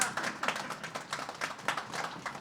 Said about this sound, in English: Now you can applaud all of them.